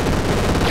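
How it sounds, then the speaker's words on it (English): A machine gun in the video game Super Crate Box, firing a dense, loud rapid burst of rattling shots that fills the whole moment with no talk. "Machine gun."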